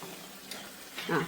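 Beef goes into sizzling masala in a pan and is stirred, giving a brief frying hiss with scraping and stirring noises that swell toward the end.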